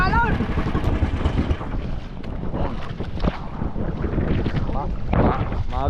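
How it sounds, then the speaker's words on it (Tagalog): Strong wind buffets the microphone aboard a boat at sea while waves slosh and crash around the hull, gusty and uneven, with faint voices underneath. "hintay natin kung ano, lumakas pa ng hangin"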